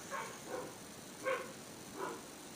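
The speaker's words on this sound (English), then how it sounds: "I can hear dogs barking out there" Dogs bark outside in a quiet distance, four faint separate yaps spaced about half a second apart.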